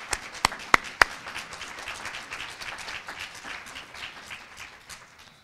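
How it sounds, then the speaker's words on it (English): A conference audience breaks into soft applause after a few sharp, isolated claps up front, the clapping settling into a moderate, even patter that fades slightly toward the end. "please give them a round of applause"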